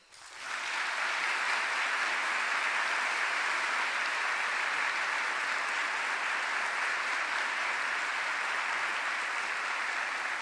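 Steady, loud applause from a lecture audience welcoming Bishop Robert Barron at Notre Dame, swelling quickly and sustained evenly for about ten seconds with no voices over it.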